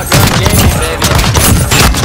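Shotgun fire in Call of Duty: Modern Warfare, a loud sustained burst of heavy blasts with dense booming shots packed tightly across the whole stretch.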